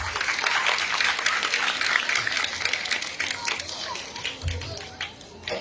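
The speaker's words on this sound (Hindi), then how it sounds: "शुक्र गुजारी करना खुदा दे हुजूर ताड़ी जोरदार तालियां दे नाल" Congregation at a Catholic sermon for the Coronation of the Virgin Mary bursts into lively applause, dense clapping that fades toward the end, with some voices mixed in.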